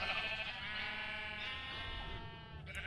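A Minecraft sheep gives one long, wavering bleat that carries close and clear through most of the moment, with no talk over it.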